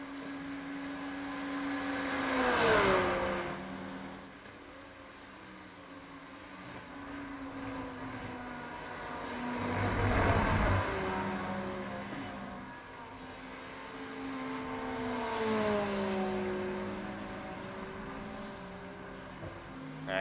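Ferrari and Porsche GT3 race cars lapping Watkins Glen in iRacing, engines droning and revving at high pitch with shifting tones, swelling as cars pass near then fading, continuous throughout.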